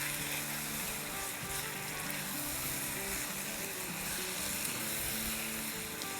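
A pound of minced chicken thigh sizzles steadily in a pan as it is stirred and mixed, a dense, continuous crackling hiss with no voices.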